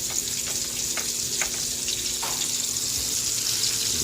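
Breaded chicken frying in hot oil, a continuous close sizzle with a few bubbling pops, loud and steady with no talk.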